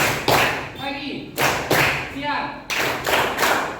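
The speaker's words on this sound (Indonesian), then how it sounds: "Caranya dengan tepuk tangan lagi, ya." Schoolchildren in a sociology class clap hands together in a group concentration game, three bursts of clapping spaced about a second apart, with voices chanting and talking between them.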